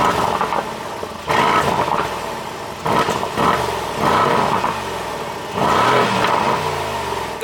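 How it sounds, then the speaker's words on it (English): Mercedes-AMG GLC 63 V8 in Sport Plus mode with its exhaust valves open, revved hard in three loud, close bursts that each roar up and then settle back to a throaty idle, with no talking. "put the car into dynamic mode, and that's going to open up some valves, so Sport Plus, and then we're going to give it some revs"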